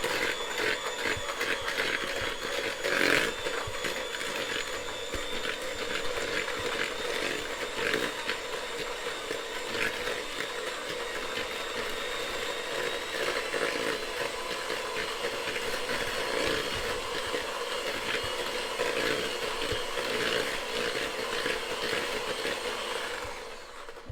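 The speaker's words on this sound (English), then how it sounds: "in the butter put the sugar, and we start mixing the butter and the sugar." Butter and sugar are beaten together for an Anglo Christmas pudding with an electric mixer, a steady loud whirring drone that runs continuously throughout with small rattling variations.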